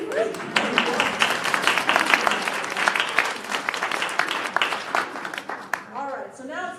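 A room at a Wellesley Centers for Women partnership event breaks into applause, with sharp, fairly close claps that swell and then thin out. A voice starts speaking as the clapping fades near the end.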